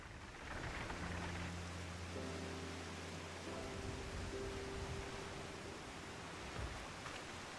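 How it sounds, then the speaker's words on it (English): Rain falls steadily in Final Fantasy XIV, a broad even hiss of drops that holds throughout, with a low sustained hum fading in and out underneath and no voices. "We made it. The rain didn't stop us."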